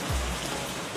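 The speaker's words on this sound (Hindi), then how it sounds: "इस्लामाबाद में बारिश से जल थल एक हो गया" Heavy rain pouring down in Islamabad, a steady dense hiss of drops striking surfaces close by, with a brief low thump at the start and no voices.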